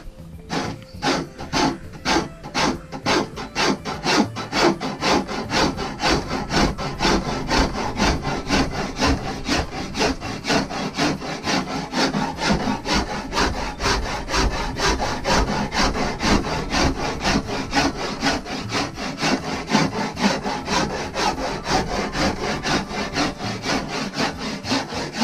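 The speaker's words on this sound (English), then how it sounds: "I'm going to use the rasp here." A rasp scraping yew wood while shaping a longbow, continuous rhythmic rough strokes, loud and close, repeating steadily for the whole stretch with no talk.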